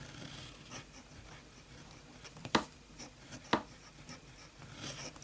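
Flex nib fountain pen scratching across paper with Kaweco Sepia Brown ink, faint soft rubbing strokes with two sharper scratchy ticks, quiet and close with no talking.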